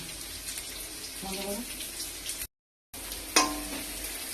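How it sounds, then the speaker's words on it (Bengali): Onions frying in oil with curry leaves, a little dried red chilli and bay leaf give a steady close sizzle that cuts out briefly, then returns with a sharp clink of a utensil in the pan. "তো পেঁয়াজটা আমার ভাজা হচ্ছে, কারি পাতা, অল্প শুকনো লঙ্কা আর তেজপাতা"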